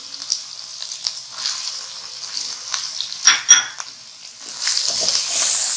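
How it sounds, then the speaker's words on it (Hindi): Onions sautéing over low heat in a pan, a soft steady sizzle with a few light scrapes and clinks of a utensil. A brief voice comes in near the middle. "प्याज को थोड़ा सा सौटे करना है।"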